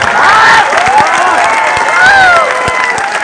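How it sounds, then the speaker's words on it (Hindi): Rally crowd on an open ground in Nawada, Bihar, cheering and clapping loudly, with shouts and whistles rising over sustained applause. "बता दो ताली जोर से"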